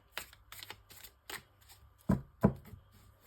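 Oracle cards are shuffled by hand for a six-card reading, giving a series of crisp, close riffling and slapping bursts that end in a couple of sharper taps, with no talking.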